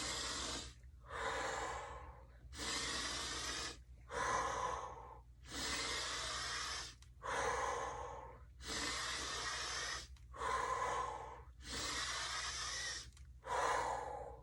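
Deep, audible breaths in and out during air squats, about ten long airy breaths in a slow, even rhythm, close and clear with no talking.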